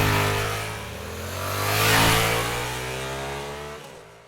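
A Royal Enfield Super Meteor 650, its air-cooled 650cc parallel twin revving up and back down in one loud, close swell, then dropping off sharply.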